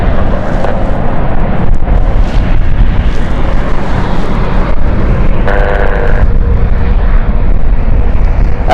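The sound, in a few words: airplane departing London City Airport for Rotterdam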